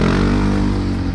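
A Honda PCX 160 scooter with a modified aftermarket exhaust idles and revs close by. The engine drones loud, steady and continuous, with a throaty burble throughout.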